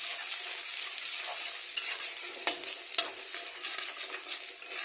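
Chopped onion and green chilli fry in hot oil with bay leaves, giving a constant bright sizzle up close, broken by a few sharp clicks of a spatula against the pan.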